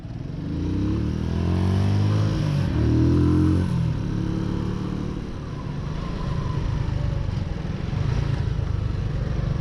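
A custom Honda Super Cub NBC110 motorcycle rides in second gear on a New Zealand road, its small single-cylinder engine humming loud and steady with a rising pitch sweep and wind rush throughout.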